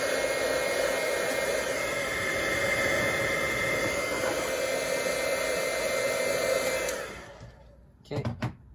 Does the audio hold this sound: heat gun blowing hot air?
yes